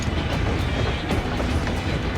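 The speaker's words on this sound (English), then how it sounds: "Train. Train." Train from the Final Fantasy XIV game, the Dawn Blazer locomotive, running with a steady, dense rumble and rail clatter that holds at an even level throughout, with no talk.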